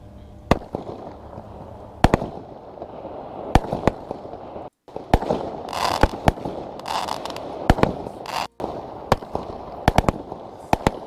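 A Fiesta consumer fireworks battery sold at Kaufland in Germany fires a rapid series of sharp bangs and crackling bursts, loud and irregular, with brief pauses between shots and no talking.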